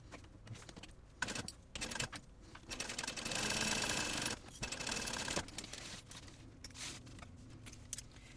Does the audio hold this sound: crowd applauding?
no